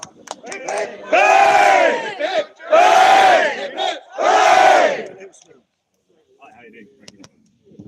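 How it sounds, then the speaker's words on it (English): A crowd at a unity march in Exeter gives three loud cheers for the organiser, three bursts of massed shouting, each about a second long, separated by short pauses, with faint voices after the third. "3 cheers for the organiser!"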